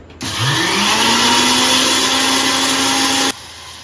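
Electric spice grinder coarsely grinding pickle spices: a steady, loud motorized whir that starts abruptly, runs evenly for about three seconds, then cuts off cleanly, with no other sounds.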